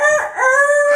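A rooster crows once in a single close, loud call with a rising and then sustained pitch, set amid talk about pairs of animals such as snakes, chickens, monkeys and cats entering.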